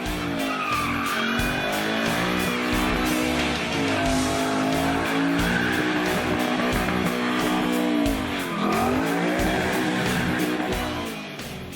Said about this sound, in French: On l'entend dans le crissement des pneus lors d'un burn.